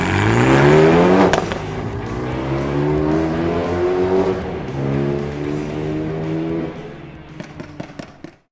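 A car with performance tires warmed to working temperature launches again, its engine rising in pitch through several gear shifts, loud and close, before easing off and fading into brief clicks at the end.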